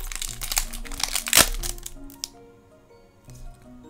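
Cardboard Pokémon booster pack being torn open, crisp crinkling and tearing bursts close up with one sharp rip, then quieter rustling and a brief crackle near the end.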